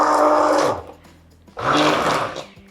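A hand blender whirs loudly in two bursts while blending cooked lentils, its motor buzzing close up with a short pause between runs.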